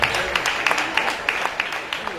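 A small audience at a singing competition claps in a brief burst of uneven, fairly near hand claps that sound like a modest group rather than a large crowd.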